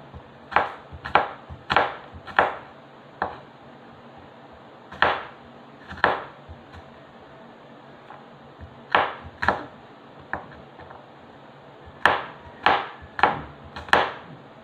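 Knife chopping garlic and onion on a cutting board while preparing ingredients for pancit: sharp, close knocks in short bursts of two to four, separated by pauses.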